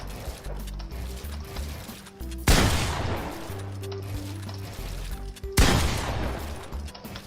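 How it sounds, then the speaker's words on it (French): Two loud gunshots fired at targets in Fortnite, each a sharp blast with a long decaying tail, a few seconds apart over low game background sound, with no talk. "Hop, hop, et là vous tirez sur la petite cible."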